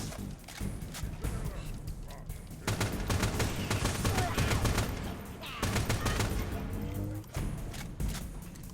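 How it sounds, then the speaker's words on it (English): MA5K armor-piercing assault rifle variant in Halo Reach, dense automatic bursts crackling loudly in long runs with short pauses, layered with other firefight noise. "MA5K auto armor piercing. That's another assault rifle variant."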